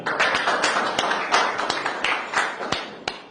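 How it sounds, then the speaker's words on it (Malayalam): A small group claps in quick, uneven bursts of applause for Suresh Gopi, close and fairly loud, with no voices over the clapping. "സുരേഷ് ഗോപിക്ക് ഒരു കയ്യടി കൊടുക്കാം."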